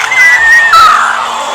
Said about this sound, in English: That scream squeal sounds like I was dying.